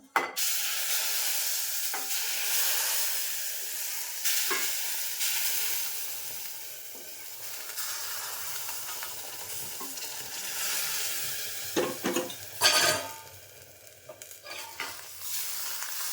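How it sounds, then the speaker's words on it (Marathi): Hot water poured into roasted semolina in a pan while making sweet sheera raises a hissing, bubbling sizzle, loud at first and then fading, with a few clinks of utensils toward the end. "रवा आपला मस्त भाजून झालाय आणि पाणी तापत ठेवले ते पाणी ओतूया आपण"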